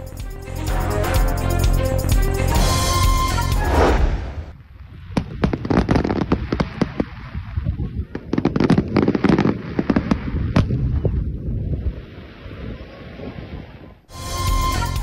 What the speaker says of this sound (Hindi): सऊदी अरब में ईद पर आतिशबाजी का मुजाहरा।